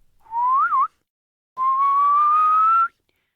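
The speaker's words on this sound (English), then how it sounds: "Heidi heard a whistle" Two clear whistles at sunset, a short wavering note followed by a longer, steadily rising tone, loud and close against silence, as a goatherd brings goats home.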